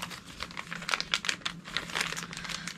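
A craft blade slits open a package with a thin plastic wrapper, a few quick scratchy cuts and crinkling rustles up close, with no talking.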